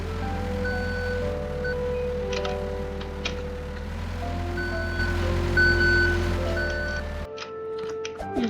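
In a truck video game, steady reversing beeps tick in a regular rhythm over a constant low engine hum for several seconds before the engine sound cuts off, leaving scattered clicks.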